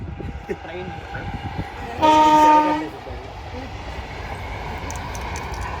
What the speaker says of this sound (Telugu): ట్రైన్ వెళ్ళిపోతుంది